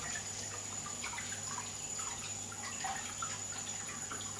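A tap runs steadily while hands are rinsed beneath it during a handwashing routine, giving a continuous close water rush with small splashes.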